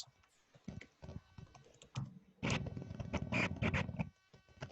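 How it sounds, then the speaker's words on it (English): A computer keyboard typed on during an online Zoom workshop gives quick, irregular clicks up close, sparse at first and then a denser burst of keystrokes, with no talking. "I'll just type it here in the chat."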